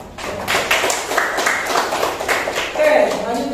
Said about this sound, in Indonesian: Tepuk tangan buat Bapak ya